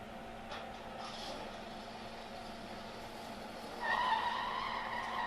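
Car tires screech on a wet road in pouring rain during a film scene, a rising squeal over a steady wash of rain and engine noise, fairly faint and distant.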